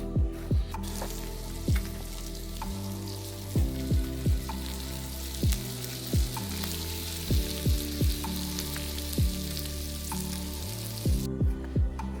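Fresh mackerel fries over a campfire in the woods, a steady crackling sizzle throughout with repeated sharp clicks and taps from the pan or utensil.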